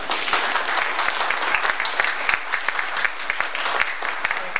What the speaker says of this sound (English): if we could give a round of applause for our two presenters today